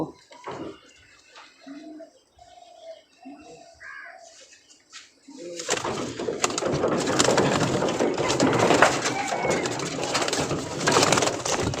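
Pigeons coo in short low bursts near the start, then a loud, steady wash of water or rustling noise takes over for the rest.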